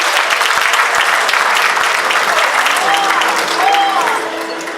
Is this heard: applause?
yes